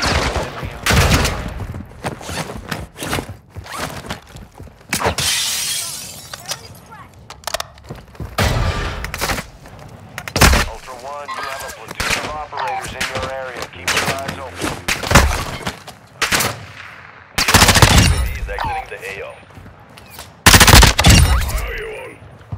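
Gunfire in the Call of Duty DMZ video game: repeated bursts of rapid shots and sharp single cracks, loud and close, scattered across the span with pauses, mixed with someone talking.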